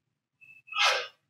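A single sneeze close by, a short sharp intake of breath followed by a loud bursting exhale, heard alone in a quiet room.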